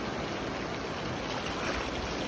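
A muddy river runs high after a day of rainfall, giving a steady, dense rushing wash of flowing water with no pauses and no voices.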